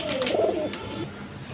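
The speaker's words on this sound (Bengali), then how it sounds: "এখানে একটা সিঙ্গেল মাদি কবুতর আছে" A single female pigeon gives one soft close coo, a short warbling call that fades into quiet background.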